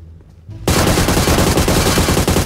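Rapid automatic gunfire from PUBG Mobile, a dense, loud burst of shots that begins abruptly after a quiet moment and continues without pause.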